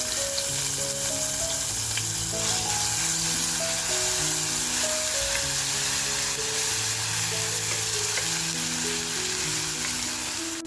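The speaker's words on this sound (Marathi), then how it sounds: "तेल छान तापलं ना की आपण जो कुटून घेतलेला मसाला आहे तो मसाला टाकून द्यायचा." Pounded green masala hits hot oil and fries with a continuous, even sizzle and hiss, steady throughout beneath a melodic background tune.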